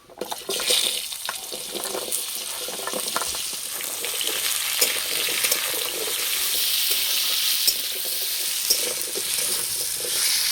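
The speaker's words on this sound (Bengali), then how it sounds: "কুমড়ো হালকা করে একটু ভেজে নিয়েছি" Pumpkin sizzles in white oil with whole cumin and bay leaf in a pan, alongside potato, carrot and drumstick. A close, steady, hissing fry runs throughout, with faint stirring.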